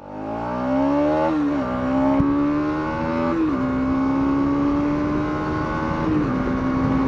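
A Bajaj Dominar 200 motorcycle engine revs loudly and steadily toward 9,750 RPM, the pitch climbing and briefly dipping at shifts before holding a high, sustained whine, close up with no talking.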